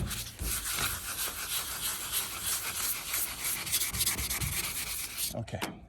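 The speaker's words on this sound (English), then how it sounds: "you just sand it a little bit more. This 1000 grit to take it" Continuous rough scrubbing of 1000-grit sandpaper wet sanding a spray-painted surface, rubbed back and forth, steady and close, ending abruptly.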